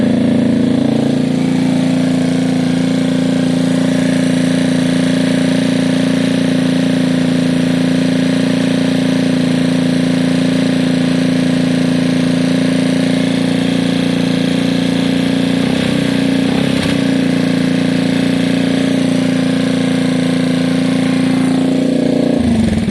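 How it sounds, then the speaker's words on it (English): A Gilera DNA scooter engine idles high, a loud, close, steady drone that holds its pitch throughout with only slight wavering. "Idling quite high, look."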